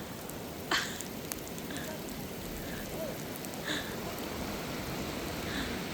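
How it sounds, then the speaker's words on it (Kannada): Heavy rain falls steadily at a beach, a dense continuous hiss of drops with a few sharper splashes and faint voices in the background. "ಮಳೆ ಜೋರಾಯಿತು ಮಾರೆ."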